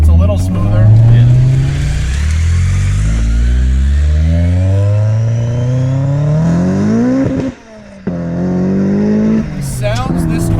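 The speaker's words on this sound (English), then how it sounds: "The sounds this car makes from the outside are crazy. It literally sounds like a Le Mans prototype car." A supercharged Honda S2000 track car drives hard and close, its engine roaring loudly and rising repeatedly in pitch through several gear changes. There is a brief lull near the end before it pulls again.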